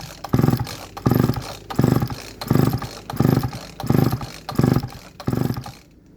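A McCulloch Pro Mac 610 chainsaw is cranked with about eight rhythmic pull-cord strokes, each a loud, close burst of engine turnover that dies away without settling into a steady run.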